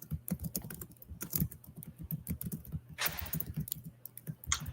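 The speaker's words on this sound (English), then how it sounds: "I was just typing" Quick, irregular keystrokes on a computer keyboard during a live online conference session, close and clear with bursts of clicks and one brief rustling swish midway, no voices.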